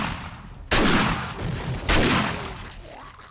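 A fast-firing gun cutting down zombies in the video game 7 Days to Die, two loud, sharp bursts of rapid fire about a second apart, each trailing off into game ambience.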